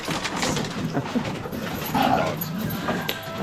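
Several dogs whimper and yip in a restless, continuous chorus at close range, the high thin cries overlapping with no clear gaps.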